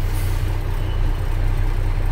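Steady loud rumble of a truck engine idling with a low hum during a CDL pre-trip inspection on an automatic rig as the foot brake is let off, with no clear hiss of air and no voices.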